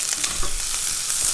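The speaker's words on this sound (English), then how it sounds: "So that's what you want to hear. That nice sizzle." Garlic sizzles in olive oil in a pan at the start of a quick sauce, giving a steady, even crackling hiss at moderate level with no talk.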